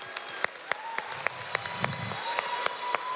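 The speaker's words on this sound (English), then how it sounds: "Can we get He's a round of applause," Audience applause at a university lū‘au and hō‘ike, moderately distant clapping with a few sharper claps standing out at irregular intervals and a brief low murmur partway through.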